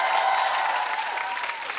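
Studio audience applause for a school quiz team on a children's TV quiz show, a brief burst of dense, steady clapping that stays even throughout.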